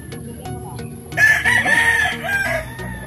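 A gray hatch gamecock rooster crows on a backyard farm, one loud, drawn-out cock-a-doodle-doo rising after a second of quieter yard noise, close to the listener.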